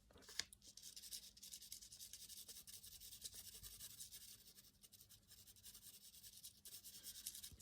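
A pencil eraser rubs back and forth over shaded graphite on paper, giving a steady, close scratchy friction with a sharp tap near the start and no talking.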